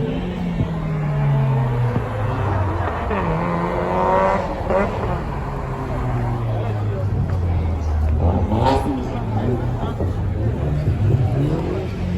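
A Toyota Supra at a car meet, with its engine revving and rising and falling in pitch over several pulls, all under the loud chatter of a crowd.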